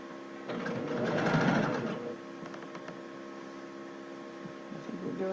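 A sewing machine stitches along a shirt hem, its steady mechanical whir swelling in a louder run near the start, then continuing more quietly with a faint mains-like hum underneath; no one speaks.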